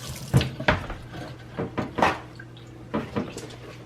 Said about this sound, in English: So once you're done washing your crystals